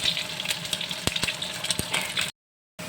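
An egg fries in a pan, giving a sharp, close sizzle scattered with crisp pops and crackles. It breaks into a brief moment of silence before the frying resumes, with no talking.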